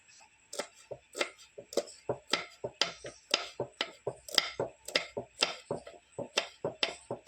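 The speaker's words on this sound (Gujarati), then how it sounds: "હવે કાપી નાખીએ મરચાં" A knife chopping green chilies on a board, a brisk, even run of close, crisp knocks about three per second, continuing with no voices.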